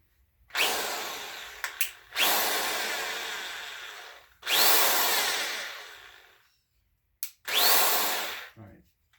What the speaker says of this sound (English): We got our 1/2 inch drill bit ready